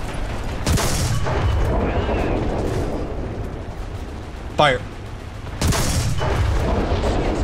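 A tank cannon fires in the War Thunder game, a sharp broadband blast that cuts through loud engine rumble and battle noise, with a second heavy shot a few seconds later.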